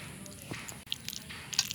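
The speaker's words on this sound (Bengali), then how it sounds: "এবার আমি হাত দিয়ে ভালো করে চটকে নেব।" Steamed, drained jujubes (kul) squished by hand for a pickle, soft wet squelches and small sticky clicks at close range, quiet and irregular.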